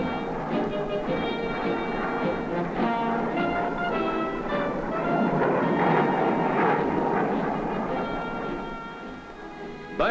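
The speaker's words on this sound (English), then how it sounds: "Sabre jets soar into the air for intricate tactical maneuvers" Sabre jet aircraft roaring into the air during tactical flight training, a loud steady jet engine rumble that swells toward the middle and stays dense throughout with no voices.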